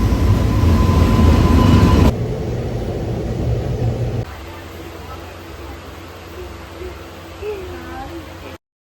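Loud steady rumble of a moving train departing from Mulanthuruthy railway station, the roar dropping in stages to a quieter interior drone, with faint voices underneath.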